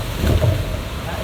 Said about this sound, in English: There's that gust of wind.